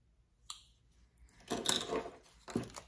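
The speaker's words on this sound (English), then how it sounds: "Let me use the handy dandy scissors." A few quiet snips of scissors slicing through packaging, close by, with a faint click before the cuts.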